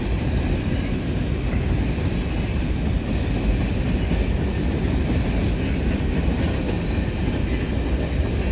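A CN freight train rolls past near Dorval West signals, with a DPU locomotive among its cars, giving a loud, steady rumble and rail clatter that fills the whole stretch without letup.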